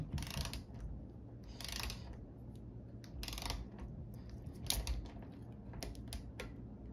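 Torque wrench tightening stem bolts on a road bike, heard as several short bursts of quiet ratcheting clicks spaced about a second apart over a low background hum.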